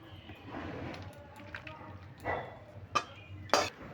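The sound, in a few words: pouring cooked ash gourd bori posto into a bowl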